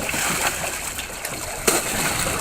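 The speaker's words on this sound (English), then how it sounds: "the stingray goes back in the water" A stingray released back into the water in the Cayman Islands stirs up splashing and sloshing, a close, busy watery churn with one sharper splash partway through.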